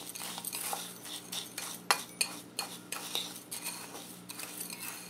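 A fork stirs and breaks up a clumpy mixture of crushed Jolly Rancher candy in a bowl, a close, quick series of metallic clinks and scrapes with irregular sharper taps against the bowl, alone without talk.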